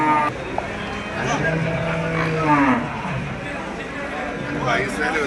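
Water buffalo at a busy cattle market in Melapalayam, with low moos and lowing calls rising over a crowd of people talking nearby.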